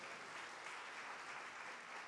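A church congregation at a Friday service claps together in sustained, dense applause, steady and fairly close throughout with no pauses or breaks.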